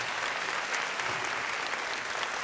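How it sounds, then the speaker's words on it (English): Steady audience applause at a comedy magic show in a music hall, a dense wash of clapping from a crowd, sustained and even for a couple of seconds with no voices on top. "You shouldn't have clapped for that."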